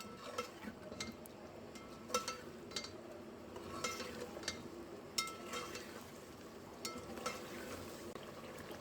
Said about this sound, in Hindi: अब इनके साथ हम इसे भूनेंगे।